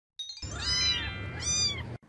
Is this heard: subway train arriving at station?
no